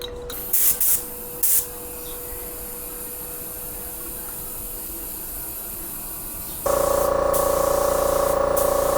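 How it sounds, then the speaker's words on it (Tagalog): Spray gun painting a car body, a steady close hiss with a few brief louder bursts early on, then a louder, harsher compressor-like spray continues to the end. "kakatapos na nating magpintura"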